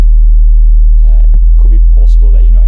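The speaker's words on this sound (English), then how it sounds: "So the first bass is the sub bass" Very low sub bass from an Afro house track, built in Logic Pro X, droning steadily throughout, with a brief tonal sweep partway through and faint upper melodic fragments drifting above it.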